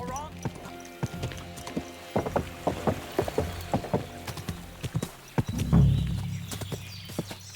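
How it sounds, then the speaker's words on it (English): Rhythmic clip-clop of horse hooves on a hard surface in the video game Kingdom Come: Deliverance 2, a steady trotting beat with occasional voices and a snort near the end. "Is this your first time riding a horse"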